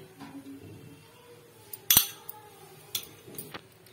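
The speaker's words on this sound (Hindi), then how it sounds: "चूल्हा बंद कर दिया, हम इसमें घी डाल देंगे।" A spoon clinks against a pot of cooked jaggery rice while ghee is added, a few sharp metallic taps amid soft kitchen rustling.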